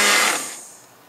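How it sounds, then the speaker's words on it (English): A small bullet-style mini blender whirs loudly for a moment and then winds down as the motor fades, with no voices present. "this is like a handy little mini blender here, a little bullet"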